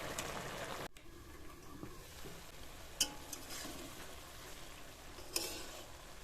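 Bitter gourd and potato curry gets stirred in a pan, with soft low scraping and faint sizzling at a quiet level, plus a couple of sharp utensil clinks against the pan.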